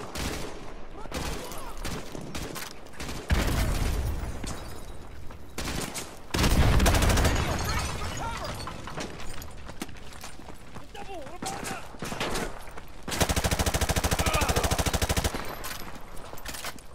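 Sustained gunfire from the video game Modern Warfare 2 Remastered, with dense bursts of automatic fire and a loud, rapid rattling stretch near the end, layered under voices and game sound effects.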